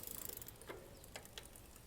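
A freshly oiled mountain bike drivetrain turns with a faint, steady mechanical ticking and light whirring from the chain and freewheel, quiet and close, with no talking.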